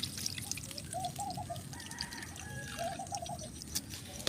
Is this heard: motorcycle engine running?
no